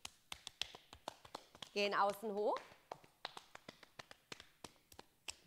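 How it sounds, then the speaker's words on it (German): Hands tapping along the legs during a home sport warm-up exercise, a steady series of light slaps with a voice speaking over it and a brief spoken or sung phrase in the middle. "wir klopfen jetzt unsere ganzen Energiebahnen wach"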